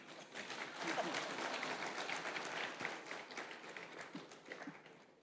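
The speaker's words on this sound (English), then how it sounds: "Thank you for the applause." Faint, steady applause rises from the audience at a panel session as a speaker takes his seat: a soft wash of many hands clapping that lasts the whole stretch and thins slightly toward the end.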